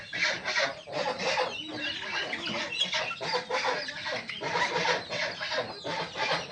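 Native village chickens clucking while feeding under a malta tree, with repeated overlapping clucks and short squawks from several birds at close range, steady and fairly soft.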